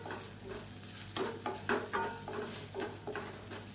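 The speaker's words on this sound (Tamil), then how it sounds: "இப்போ நல்லா பரட்டி விட்டுக்கலாம்." Cooked rice tossed with idli powder and scraped around a pan with a spoon, giving a run of close scraping and stirring strokes over a faint sizzle, with no talking.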